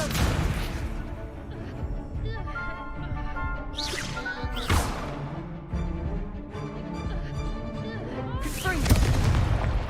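Fire-spell blasts from Hogwarts Legacy, the magical combat game, burst as loud booms over a dense musical score, with sharp broadband bursts near 4.5 and 9 seconds.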